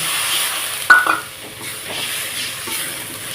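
Water poured into masala frying in a pan for a mung dal and taro dish: a sharp burst of sizzling hiss that swells and then settles into a steady, softer bubbling fry, with no talk.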